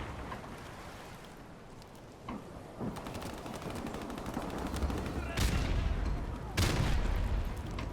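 Sniper rifle shots in a video game played on a NACON Revolution Pro controller, a few sharp reports spaced seconds apart over low rumbling game ambience, with a voice faintly present.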